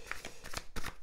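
A tarot card being turned over during a reading, with several quick papery slides and flicks in close succession, soft and near, with no talking.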